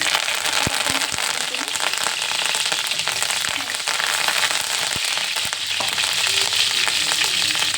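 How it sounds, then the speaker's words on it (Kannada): Loud, dense spluttering and crackling of spices and curry leaves in hot oil, with sharp pops scattered throughout, close up and continuous, no talking. "ಮಸಾಲೆ ಸಿಡಿತಾ ಇದೆ."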